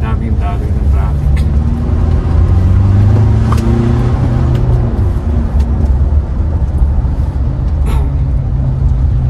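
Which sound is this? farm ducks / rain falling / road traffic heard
road traffic heard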